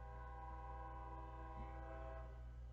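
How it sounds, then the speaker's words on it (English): A train passes outside, heard from indoors as a steady low rumble with a sustained tonal horn-like drone, constant and moderately distant throughout, with no talking. "here comes the train"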